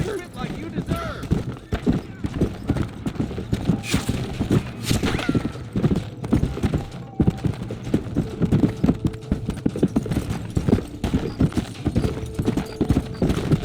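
Horse hooves clip-clop and gallop across the ground in the Red Dead Redemption video game, a steady, busy, loud patter lasting throughout, with voices and other game sounds mixed in.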